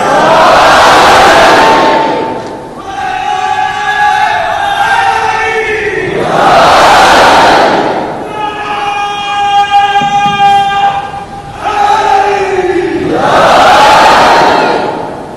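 A large religious audience roars the Naara-e-Haidari chant in loud, sustained swells, three big waves of massed voices, with a preacher's sung, drawn-out call between them.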